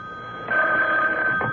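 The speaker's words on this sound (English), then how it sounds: "the phone rang." A telephone rings in a radio drama scene, a steady electronic bell tone starting partway through and continuing clearly with no voices over it.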